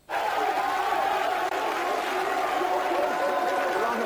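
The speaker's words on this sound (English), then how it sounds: "listen to that. Crowd go wild." A studio audience at a 1994 television show cheers and shouts wildly, a dense, loud crowd roar that starts abruptly and holds steady throughout.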